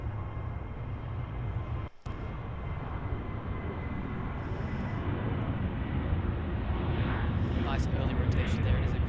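A Southwest Boeing 737 bound for San Jose takes off from Los Angeles airport, a broad steady jet roar that swells slightly as the run continues, with a voice talking over it.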